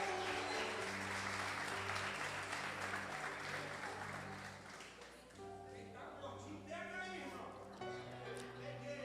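A church congregation at an evangelical revival service claps in a dense, sustained burst of applause that thins out partway through, over sustained music and a voice.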